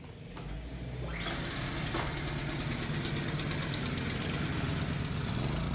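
A portable inverter generator, from the PK2300i, PK1700 and PK160a line, is pull-started on choke and then runs steadily at a loud, close, even engine drone with a fine rattling pulse, with no talking.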